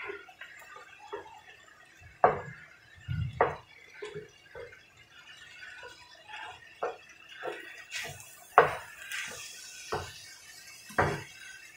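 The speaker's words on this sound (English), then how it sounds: "Let's do a little bit more Italian parsley and mix this together." Raw potatoes being mixed with Italian parsley: sparse, quiet clinks and scrapes of a utensil, spaced irregularly with soft rustling between them and no talking.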